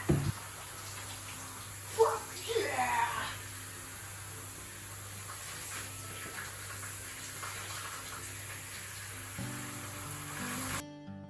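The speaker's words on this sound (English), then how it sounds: "So I'm gonna have a shower." A bathroom shower runs with a steady hiss of spraying water, alone and fairly close, with a few brief bumps of movement near the start.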